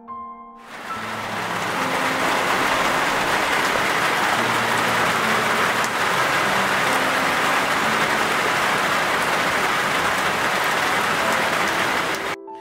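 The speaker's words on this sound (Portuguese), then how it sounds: "Uma chuva forte desabou repentinamente" Heavy rain pours down in a dense, steady roar that stays loud and even for the whole stretch, with no voices over it.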